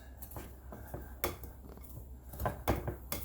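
A pastry blender working butter into a blackberry peach cobbler topping in a bowl, a series of soft scraping and dull tapping strokes against the dish at an uneven rhythm, fairly quiet and close.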